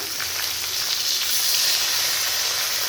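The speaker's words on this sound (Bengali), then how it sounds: "মাছগুলো ভাজা হয়ে গেছে" Fish frying in hot oil after being flipped, a steady, fairly loud sizzle and hiss that stays even throughout with no talking.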